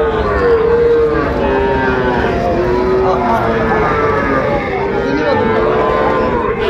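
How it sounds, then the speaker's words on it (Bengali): A young bull calf moos in long, drawn-out bellows close by at a cattle market, over a steady low rumble of background noise. "এই যে ষাঁড় বাচ্চা, খুব সুন্দর।"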